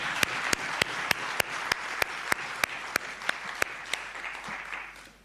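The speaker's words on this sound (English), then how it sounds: "Let's give him another round of applause," Audience at a memorial lecture gives the speaker a round of applause, a steady crowd wash with one nearby clapper's sharp, evenly spaced claps standing out before it fades.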